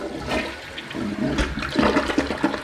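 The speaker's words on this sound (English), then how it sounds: "Here's the first flush." A newly installed toilet is flushed for the first time, a close, gurgling rush of water swirling down the bowl over a few seconds.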